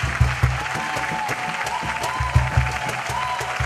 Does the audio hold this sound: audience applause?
yes